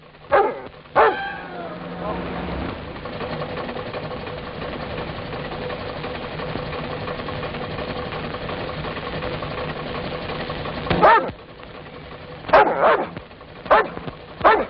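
In a 1952 film scene, a dog barks a few times near the start, then a long engine-like mechanical drone, followed by more scattered barks and voices.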